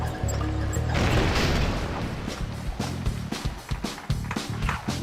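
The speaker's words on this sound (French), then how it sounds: "Cette explosion était grandiose. Ça a fait badaboum." Explosion in the Lego City Undercover video game, a loud rumbling blast with crashing debris that fills the opening second, then gives way to busy game sounds with repeated thuds and clatters.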